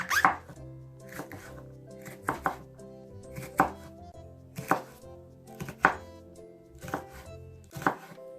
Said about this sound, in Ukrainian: Беремо перчик розрізаю його на чотири частинки і нарізаю соломку